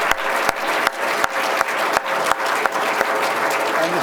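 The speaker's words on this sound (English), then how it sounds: "give him another round of applause" An audience applauds a speaker at a UC Berkeley naval science event: sustained, even clapping from a room full of people, with a few sharper claps standing out near the front.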